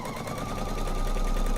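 A sewing machine stitching quilt fabric runs in a steady, fast, even whir with no pauses, close and fairly loud throughout the short stretch.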